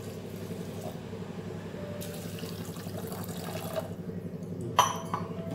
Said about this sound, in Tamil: இந்த sugar மூழ்கற அளவுக்கு தண்ணி விடணும்